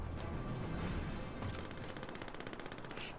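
Rapid bursts of gunfire in the video game Call of Duty: Modern Warfare crackle continuously, a dense volley of shots with a sharper rattling stretch toward the end.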